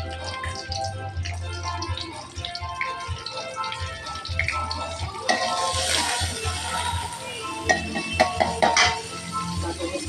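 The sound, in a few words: onion sautéing in oil and butter in a pan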